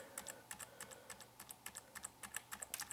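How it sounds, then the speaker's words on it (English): Repeated taps on a single computer keyboard key (F8), struck over and over in a steady rhythm of roughly five or six presses per second, close and crisp with no voices. "I'm going to keep hitting that F8 key on my keyboard."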